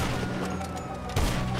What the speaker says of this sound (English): With a third person snipe